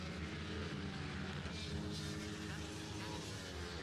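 Minibike engines race past at a Kirkistown championship round, one rider blipping the throttle down through the gears, a dense continuous roar with layered engine whine filling the whole stretch.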